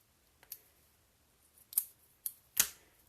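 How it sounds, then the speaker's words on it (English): Scissors snip small pieces apart in quiet surroundings, giving four short crisp cuts at uneven intervals, the last two the loudest. "I'm snipping them apart because I can"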